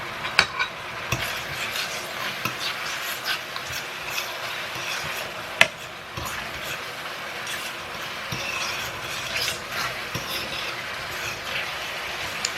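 Ground beef with taco seasoning stirred and sizzling in a pan on the stove, a steady close crackle broken by scraping spoon strokes and a few sharp clinks against the pan, with no talking.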